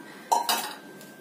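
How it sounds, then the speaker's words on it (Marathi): A lid set down on a pot of boiling rice on a medium flame gives a brief pair of close metallic clinks, followed by a faint fading ring. "याच्यावर झाकण घालून घेणार आहोत आपण"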